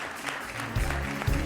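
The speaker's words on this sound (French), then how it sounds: "Merci d'accueillir et d'applaudir Axel Trésor sur le plateau de Même pas fatigué" Studio audience applauds as a guest walks onto the set of a French TV talk show, a brief burst of loud, close clapping with no speech over it.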